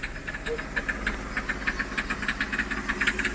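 A Hyundai Xcent with a faulty injector, revs stuck near 2000 rpm, gives a rapid, steady ticking knock over a continuous engine drone, close and fairly loud throughout.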